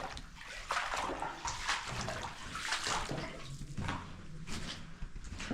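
Footsteps wade through shallow water in an underground mine 2000 feet below ground in Arizona, a continuous run of close sloshing and splashing strides with no voices.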